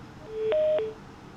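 Two short electronic telephone line tones mark an incoming call on a call-in show, with a steady tone running between them over faint background hiss.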